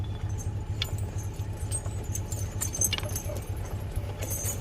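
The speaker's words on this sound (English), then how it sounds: "that dragging you guys are hearing, that's just the yellow tow rope for a safety rope" A yellow safety tow rope drags along the ground behind a 1943 Farmall H tractor, left sitting for over 25 years, as a truck tows it uphill: a constant rough scraping rattle with a quick jangling rhythm over low rumbling.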